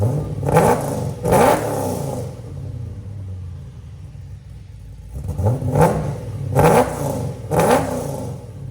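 A supercharged V8 in a Chevy Camaro SS with long tube headers revs hard in two bursts, with a lumpy idle rumbling between them; loud and close, no talking.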